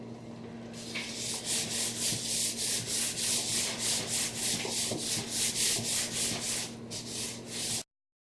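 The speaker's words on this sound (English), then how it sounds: "you just give it a good rub in there." Hands rubbing a dry spice rub into racks of pork ribs, a close, rhythmic scraping and rasping that repeats steadily in even strokes with no talk, then stops abruptly.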